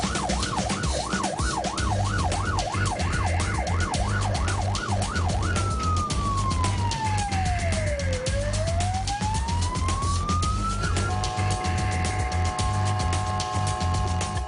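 A loud police siren wails continuously, switching from a rapid yelp to a slower rising and falling wail, with a car engine rumbling underneath.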